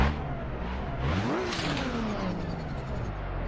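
A BMW E30 engine revs hard in a racing video game, pitch climbing quickly then sliding back down into a loud throaty rumble, close and continuous.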